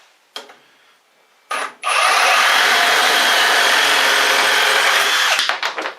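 Milwaukee M18 Fuel Sawzall reciprocating saw cutting, with a couple of brief bursts before a loud, steady buzzing cut of about three and a half seconds that ends in sputtering stops.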